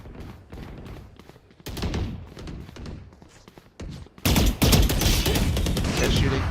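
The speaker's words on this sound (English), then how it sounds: "They're shooting." Gunfire in the video game Valorant crackles in short bursts during a VCT Americas match, with rapid shots scattered throughout and a louder, denser volley of fire at the end.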